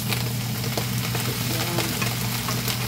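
String beans and enoki mushrooms sizzle steadily in a hot frying pan, a dense continuous crackle with occasional stirring clicks, close and fairly loud, with no voices.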